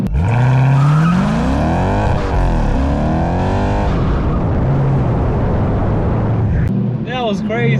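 A Dodge Magnum SRT8 V8 is pushed hard in first gear, its engine note climbing loudly with a roar that sweeps up through the revs and then eases off. Excited voices shout over it near the end.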